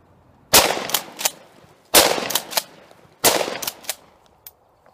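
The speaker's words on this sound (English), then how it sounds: "couple shots of the soccer ball with the little 20 gauge shotgun" Remington 870 20 gauge shotgun fired at a soccer ball outdoors, three loud sharp shots spaced about a second and a half apart, each followed by quick echoing reports and clatter.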